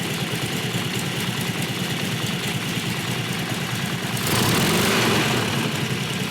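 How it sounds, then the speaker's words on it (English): A Harley-Davidson Knucklehead motorcycle engine running on a test stand, a loud, close, steady rumble with a rapid pulsing beat that swells to a harder, fuller note in its last couple of seconds. "So this is an excellent running engine as such"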